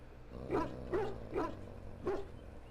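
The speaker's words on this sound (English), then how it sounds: "Conversational barking." A dog in the video game Dragon Age Origins lets out four short, moderately loud barks with a whimpering, yippy edge, evenly spaced in a brief burst.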